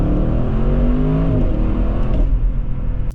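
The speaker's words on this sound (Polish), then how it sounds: "Po prostu tak się to auto odpala." A 2023 Audi RS6 Performance engine fires up with a loud, deep roar and a rising rev that settles into a throbbing idle, heard close by with no talk.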